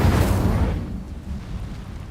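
Fire spell Incendio cast in the video game Hogwarts Legacy: a loud, broad whooshing burst of flame that fades over about a second into a lower rumbling tail.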